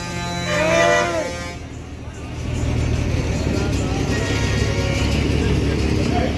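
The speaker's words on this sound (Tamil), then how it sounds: "இதுவும் பழனி வண்டி." Busy traffic at Tiruppur old bus stand, with a Palani bus idling nearby, its steady engine rumble under a horn toot and a person talking.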